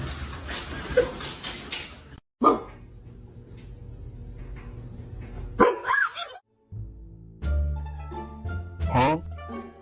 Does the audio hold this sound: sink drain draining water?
no